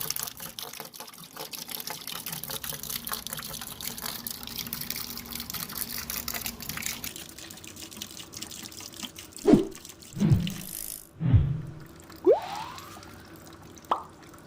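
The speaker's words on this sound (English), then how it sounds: "and as you see the water is coming." Water leaking and spurting from a Watts LF909 backflow preventer with the valve closed: a faint hiss of flow, then several distinct splashing plops and drips near the end, close up and without talk.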